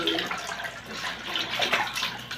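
Water splashes and pours steadily while a child is bathed, a close, continuous wet rushing with small surges and no clear talk.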